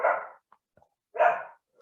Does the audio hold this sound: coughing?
no